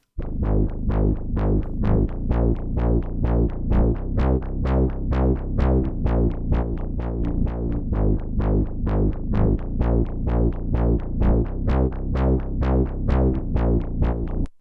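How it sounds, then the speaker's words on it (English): A deep, heavy bass pitch-shifted an octave down pulses in a steady repeating rhythm of short plucked notes, loud and dense throughout with no talking. "I put the sound shifter, which is simply a pitch plugin. And I put 12 semitones down"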